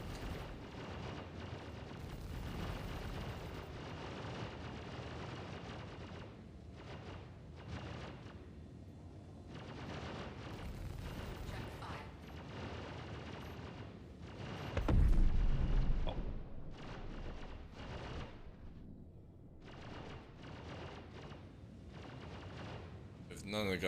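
Turret gunfire in Star Citizen: a steady stream of rumbling, booming shots in a space battle, with a louder heavy blast midway, while a player talks over the fire.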